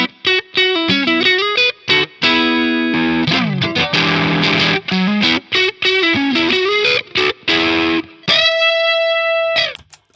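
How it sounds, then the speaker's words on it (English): Heavily fuzzed electric guitar through a legacy fuzz pedal plays choppy riffs and sustained distorted chords through a Marshall-style amp, with short gaps between phrases and a long ringing note near the end. "Let's see how it takes this legacy fuzz pedal."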